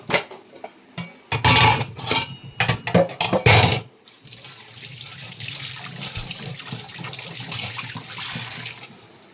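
Water runs from a tap in a home kitchen to soak food: a loud, choppy splashing burst for several seconds, then a steadier, softer gushing stream that continues to the end.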